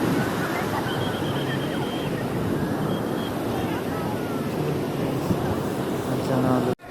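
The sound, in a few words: ocean waves at a Goa beach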